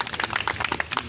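A short burst of clapping from an audience at a Jai Bhim gathering for the 128th birth anniversary event in New Delhi, a quick ragged patter lasting about a second.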